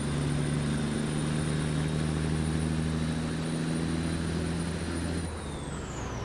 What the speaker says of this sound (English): Like the sound of this engine.